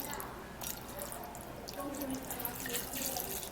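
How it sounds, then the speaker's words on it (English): Water running steadily into a cooking pot, a close, continuous splashing stream with faint talk underneath. "and then you put in water"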